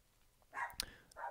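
Small dogs bark in a few short, sharp yaps with brief gaps between them, fairly close and moderately loud, with no one speaking over them.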